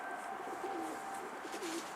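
Pigeons coo softly in repeated low, throaty calls against a steady background hum, a few rolling coos spaced through the moment.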